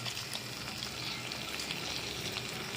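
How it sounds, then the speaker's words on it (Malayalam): Hot oil with fried mustard seeds poured into a traditional cucumber pulissery curry, a steady close sizzle and crackle with light popping throughout. "ഇനി നമ്മുടെ കറിയിലേക്ക് ഈ കടുക് വറുത്തത് എടുത്ത് ഒഴിക്കാം."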